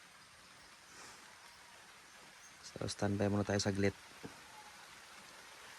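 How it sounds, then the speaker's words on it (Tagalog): Steady soft rain hiss fills the background, with someone speaking briefly over it in the middle. "At inabutan nga tayo ng ulan mga boss."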